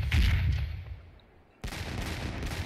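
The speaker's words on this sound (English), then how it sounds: "as you can hear by the sounds of the cannons, they do have fairly powerful cannons" Ship cannons firing during a naval battle in the Sea Dogs video game: a loud booming blast fades into a brief lull, then a second heavy report hits and rumbles on.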